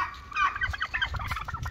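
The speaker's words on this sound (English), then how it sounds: "these turkeys came over here to check out this new turkey" Several turkeys gobble and chatter in quick overlapping bursts around a new turkey tom outdoors, close by and fairly loud with no talk.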